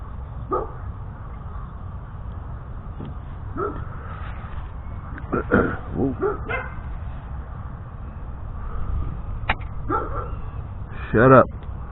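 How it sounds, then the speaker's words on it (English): Small dog barking and yipping in short bursts at a home, scattered across the recording over steady low background noise, with one louder cluster of yips near the end; no talk. "Why are you making any noise, stupid dog?"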